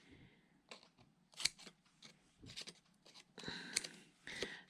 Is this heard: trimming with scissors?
yes